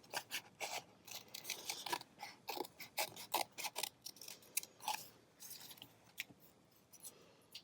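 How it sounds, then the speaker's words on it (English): Scissors cut around a circle of coffee-dyed paper up close and fairly faint, a rapid series of crisp snipping and crunching strokes in irregular bursts with brief pauses. "I'm going to cut around this circle."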